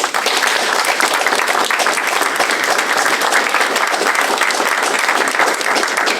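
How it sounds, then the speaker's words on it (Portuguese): Dense, sustained applause from an audience at a book presentation event at the Casa dos Açores, loud and steady throughout with no pauses. "A todos vós, uma salva de palmas."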